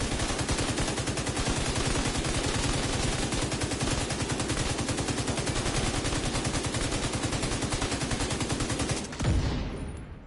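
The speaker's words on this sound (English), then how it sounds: "Watch the explosions." Rapid sustained gunfire and blasts in The Division 2, a dense, continuous loud barrage of automatic shots running almost without pause before cutting off near the end.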